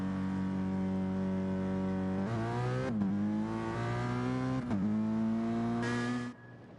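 A Peugeot race car's engine in Gran Turismo Sport screams at high revs, climbing through gears with sharp shift drops and rising whines, loud and continuous, ending abruptly.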